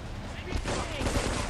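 A few quick bursts of gunfire in Grand Theft Auto III Definitive Edition crackle in the background, fairly faint and scattered over a moment.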